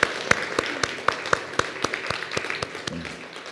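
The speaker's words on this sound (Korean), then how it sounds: "함께 박수로 격려하도록 하겠습니다." A church congregation at a Sunday afternoon service in Miryang claps together in a steady, even rhythm of about four claps a second. The claps sound sharp and close against a soft room murmur, then thin out at the end.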